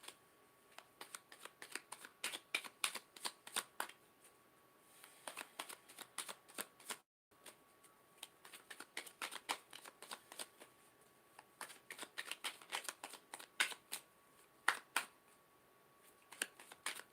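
Tarot cards being shuffled by hand, a quick run of crisp riffling flutters repeated in bursts, close and fairly quiet, with one short pause midway.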